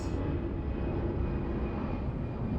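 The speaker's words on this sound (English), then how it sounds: "Great plane though, it's very nice engine sound." Steady, loud Airbus A319 jet engine roar with a faint high whine running through it, continuous and close at an airport, no voices.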